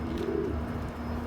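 Soft, low cooing from domestic pigeons kept in a loft, a brief rounded coo over a steady background hum, fairly close and gentle.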